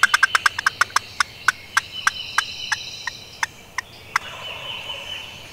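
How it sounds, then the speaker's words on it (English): A wild turkey in Mississippi hardwoods gobbles once, a quick rattling burst of sharp notes that slows and fades, heard at a moderate distance over a quiet background. "And so he gobbled at that"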